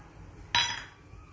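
A spoon strikes a pan of milk and sugar being stirred, giving one bright metallic clink that rings briefly and then dies away over low background hum.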